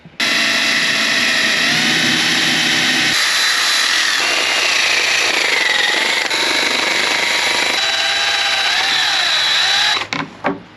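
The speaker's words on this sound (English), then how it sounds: "So I think that is the biggest drill bit that I have right now, and it is definitely not that big." A power drill with a large bit drills loudly and continuously into a truck cap during installation, its whine shifting in pitch as it bites, then stopping abruptly near the end.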